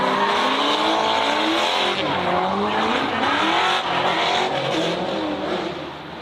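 Drift cars at an SRD drifting event on the plains sweep through an outer zone toward the finish line, with engines roaring at high revs and tires squealing continuously, loud and close, with a commentator faintly underneath.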